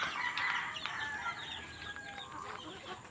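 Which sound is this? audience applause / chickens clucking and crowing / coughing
chickens clucking and crowing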